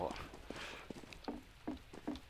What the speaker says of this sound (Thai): เสียงรองเท้ามันเดินอยู่แถวนี้นะ